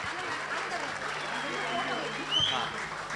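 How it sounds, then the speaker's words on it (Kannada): Audience applause after a children's dance performance at the Karnataka Vaibhavotsava 2025 event: steady, dense clapping from a crowd, mixed with voices talking. "ಬರ್ಲಿ ಚಪ್ಪಾಳೆ"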